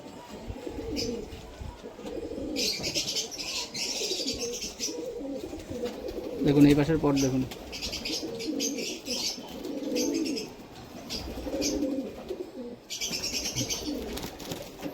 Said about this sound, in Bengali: কামাগার নর দেখুন, ভাইব্রেশন করছে দেখুন